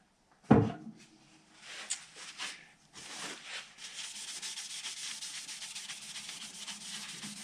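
Finishing oil being rubbed into a guitar fretboard on an OM neck: a sharp knock, then scattered rubbing strokes that settle into a steady, close, dry swishing.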